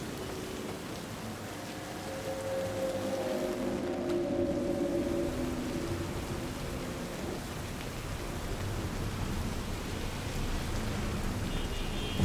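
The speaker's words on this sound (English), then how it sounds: "Actually raining in Night City for once." Rain falling steadily over Night City in Cyberpunk 2077, a dense continuous hiss of downpour with a faint tonal hum swelling in the middle, moderately loud and without voices.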